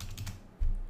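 A few quick key clicks on a computer keyboard as a folder name is typed, followed by a louder low thump, all close and brief.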